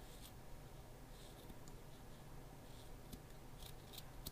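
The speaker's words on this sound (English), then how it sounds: "I'm going to take my scissors and I'm going to cut this even" Scissors snip through strands of yarn for a crocheted backpack, with several quiet, close crisp cuts scattered over a low background hum.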